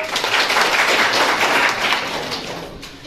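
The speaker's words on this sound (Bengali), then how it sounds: "একটা হাততালি দিয়ে দাও" Children in a classroom clap their hands together in a steady, dense round of applause lasting about three seconds, fairly loud and close, gradually easing off toward the end with no talking over it.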